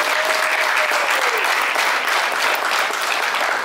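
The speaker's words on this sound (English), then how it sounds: "give a round of applause for Dr." Audience applause at a golf event session for Dr. Bob Winters, a dense, steady wash of clapping from a crowd, sustained and fairly loud throughout.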